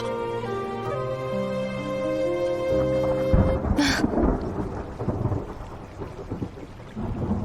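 A crack of thunder breaks over a steady wash of rain, following a stretch of sustained tones, then leaves a loud, noisy rumble with rain pattering throughout.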